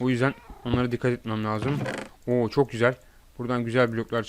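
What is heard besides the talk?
No everyday noises stand out.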